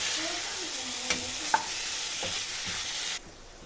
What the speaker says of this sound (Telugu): బాయిల్ చేసి పెట్టుకున్న చికెన్ని యాడ్ చేసుకోవాలి ఈ చికెన్ అంతా బాగా కలుపుకోవాలండి మసాలా అంతా బాగా పట్టేలాగా